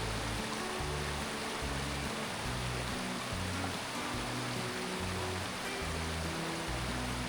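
A forest stream swollen by monsoon rain near Karnala rushes steadily, a dense, even wash of flowing water with no pauses and no voices.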